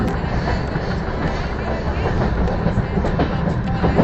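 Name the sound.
train slowing as it enters station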